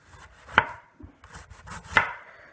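A knife cuts thin slices from half an onion on a board, two crisp chops landing about a second and a half apart amid soft handling noise, near and with no voice.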